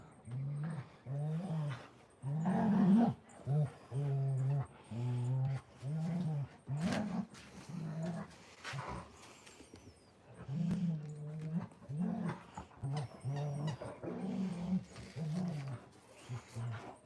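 Dog sounds that sound voiced and exaggerated, a series of short, deep, tonal barks and growling howls in regular bursts, fairly close, with little else around them.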